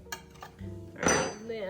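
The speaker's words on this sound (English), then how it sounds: "I'm gonna loosen it from the edges." A utensil scrapes and clinks around the edges of a pan to loosen freshly baked three-ingredient pumpkin bread, with a few short metallic taps followed by a brief scraping rub, close and fairly soft.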